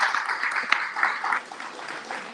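A small group claps at a casual evening hangout, a fairly close, uneven patter of hands that rises and dips briefly before trailing off.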